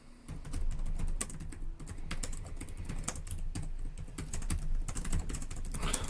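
Fast, continuous clatter of keys on a computer keyboard, close and steady for several seconds with dense overlapping clicks, no voices.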